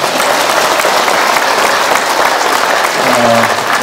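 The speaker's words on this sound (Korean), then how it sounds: "우리 강사님께 다시 한번 힘찬 박수 부탁드립니다" A large crowd at a political rally in Daejeon gives loud, dense, unbroken applause, with a faint voice emerging near the end.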